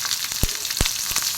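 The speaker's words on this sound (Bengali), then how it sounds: "লো ফ্লেমে এটা ভাজবো" Chopped onion, tomato and capsicum fry over a low flame in a pan, giving a steady close sizzle that is broken by a few low thumps as a spatula stirs, with no talking.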